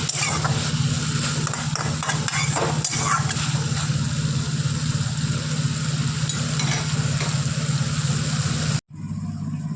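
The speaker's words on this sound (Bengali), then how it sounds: "আলুগুলো ভেজে নিই" Medium-cut potato pieces fry steadily in a pan for a Bengali potol-aloo dish, giving a continuous loud sizzle with occasional stirring scrapes, cutting off abruptly near the end.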